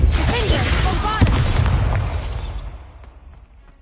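Confringo and Bombarda explosion spells in Hogwarts Legacy: a loud, close booming blast with crackling bursts and a sharp hit, then a rumbling tail fading away, with a voice heard over it.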